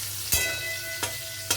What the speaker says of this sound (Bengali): এবারে উচ্ছে ভাজাটা দেখো অনেকটাই হয়ে এসছে